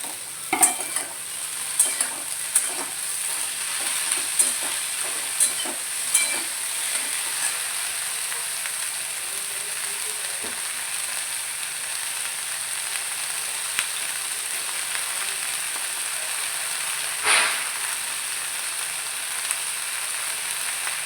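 Drumstick flowers fry in a pan with mustard oil and green chillies, giving a steady, close sizzle while a utensil stirs and taps the pan at intervals.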